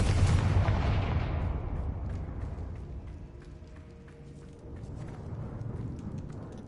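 Confringo blasting spell in a Harry Potter video game erupts in a single loud, booming explosion that decays into a long rumbling tail, then a low swell returns as it fades.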